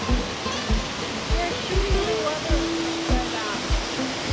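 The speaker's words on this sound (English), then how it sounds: "Like a reverse waterfall." Water rushes steadily from a park water feature shaped like a reverse waterfall, a constant mid-level splashing roar with faint regular thumps beneath it.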